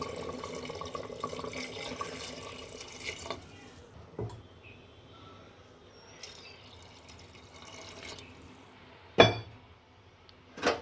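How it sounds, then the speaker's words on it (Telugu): Water pours into chicken curry in a pressure cooker as a steady splashing rush for about four seconds, then fades to quiet kitchen clatter with a few sharp knocks. "ఇప్పుడు వాటర్ యాడ్ చేద్దాము."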